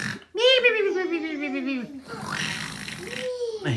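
A voice mimics snoring with a long, drawn-out rasping snore, followed by a breathy exhale and another rising snore, close and fairly loud.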